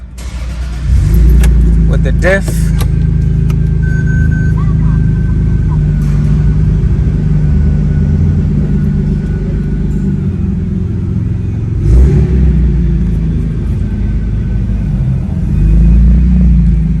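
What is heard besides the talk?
Toyota Supra MK4 driving with a Tomei LSD installed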